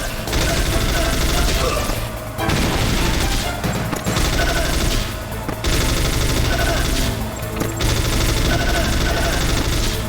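FAMAS rifle gunfire in the video game Metal Gear Solid, with loud, dense automatic bursts and mechanical clatter that repeat almost without a break, pausing only briefly between volleys.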